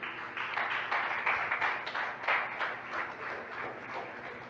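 A church congregation claps together during a service, a run of quick, fairly soft handclaps with a loose, uneven rhythm that rises and eases over a few seconds, with no talking over it.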